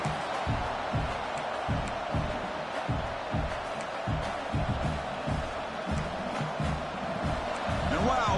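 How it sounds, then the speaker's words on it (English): A large crowd roars continuously, a dense wall of cheering and chanting with rhythmic thumping beneath it, loud and sustained throughout. "Listen to this crowd noise. This stadium is vibrating."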